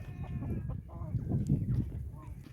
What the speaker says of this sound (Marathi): कोंबड्या सोडल्या की खुडखुड शुकशुक चालू करतात